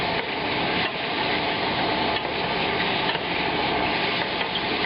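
Shallots sizzle steadily in a hot pan on high heat, a dense continuous frying hiss with faint stirring scrapes, close and loud throughout with no voices.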